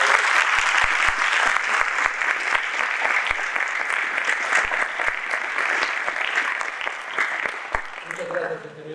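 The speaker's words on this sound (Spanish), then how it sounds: "Entonces también recibámoslo con un fuerte aplauso." Sustained audience applause at an engineering conference, a dense crowd clapping steadily for several seconds at full volume before it tapers off and a voice begins speaking at the end.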